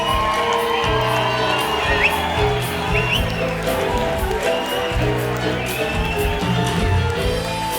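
Concert audience cheering and clapping for a band member at a show, a dense roar of whoops and shouts with applause, sustained and loud with a nearby crowd.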